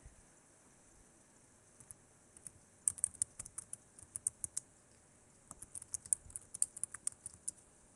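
Fingers type on a computer keyboard in quick irregular bursts of light clicks, sparse at first then denser, close and fairly quiet with no talking.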